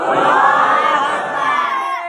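Large crowd at a religious gathering roaring a loud unison response to a Takbir slogan, one sustained chanted shout that swells and then slowly fades.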